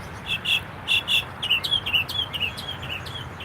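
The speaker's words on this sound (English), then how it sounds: "this bird just singing his little heart out" A small bird sings in repeated bright chirping phrases, short bursts coming in quick succession at close to moderate distance over a faint outdoor background hum.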